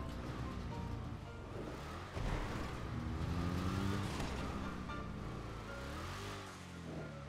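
Cars racing in GTA 5, engines roaring and revving steadily with shifting pitch sweeps as they accelerate and swerve, loud and continuous, a surge around the middle, no talk over it.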